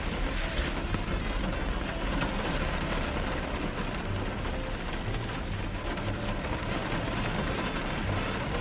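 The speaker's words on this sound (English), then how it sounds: "It's raining" Heavy rain pouring outside in a downpour, a dense, steady roar of broadband hiss with wind-like rumble, constant throughout.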